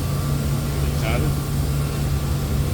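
A Centauro BETA CNC mortiser's milling head runs with a steady droning hum and faint whine, sustained and fairly loud throughout the short stretch.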